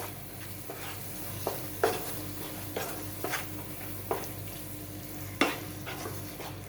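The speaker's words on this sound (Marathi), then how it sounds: "अगदी छान त्याला बाजूला तरी सुटेल इथपर्यंत ते छान तेलामध्ये परतून घ्यायचे" Spice masala stirring and frying in oil for a Malvani black vatana (black pea) curry, a steady close sizzle broken by several sharp scrapes of a spoon against the pan, with no talk.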